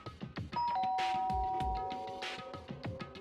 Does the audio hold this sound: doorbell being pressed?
yes